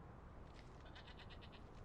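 A goat in the video game Draugen bleats in a quick series of faint, wavering pulses over a steady low background noise, with no talking.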